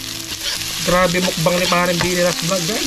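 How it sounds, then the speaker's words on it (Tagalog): Garlic and onion sauté together in a pan at a backyard cooking setup, giving a steady, close sizzle that runs the whole time beneath a voice talking over it. "Start na tayong manggisa guys. Pagsabayin na natin ang bawang at sibuyas"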